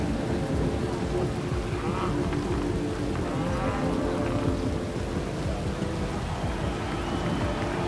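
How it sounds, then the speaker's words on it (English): Steady rain in the Forza Horizon 3 racing game pours down with a dense hiss, joined by low rumbling that sounds like distant thunder, constant and fairly quiet. "Uh-oh, it's raining."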